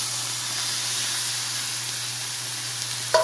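Skirt steak and shrimp sizzle in a hot pan, a steady, close, hissing crackle that holds evenly throughout, with a brief clink near the end and no talking.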